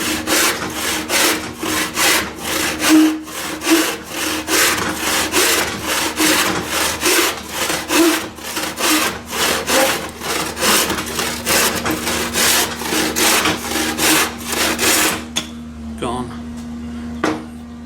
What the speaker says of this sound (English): hand saw really doesn't take long. This one's about maybe halfway through. Nice long strokes once you've got it set.